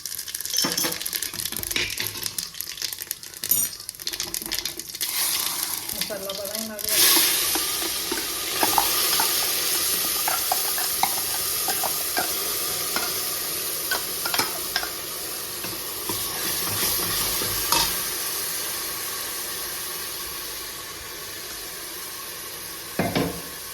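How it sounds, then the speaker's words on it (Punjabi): A spoonful of cumin seeds hits hot oil in a pan over a medium gas flame, setting off a steady, loud sizzle that continues with scattered crackles and a few light metallic clinks. "ਹੁਣ ਆਪਾਂ ਇਹਦੇ ਵਿੱਚ ਇੱਕ ਚਮਚਾ ਜੀਰਾ ਪਾਵਾਂਗੇ"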